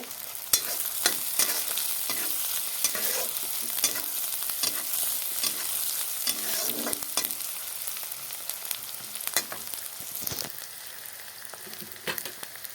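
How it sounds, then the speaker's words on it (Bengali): Onions and green chillies frying in a pan give a steady, loud sizzle with occasional stirring scrapes running throughout, close up and without speech. "পেঁয়াজগুলো আরও একটু ভেজে নেব লাল করে"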